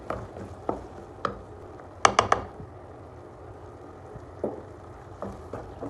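Sautéed onions with masala powder being stirred in a pan, heard as intermittent scraping and tapping clicks of a spoon against the pan, including a quick burst of three sharp clinks, over a faint sizzle.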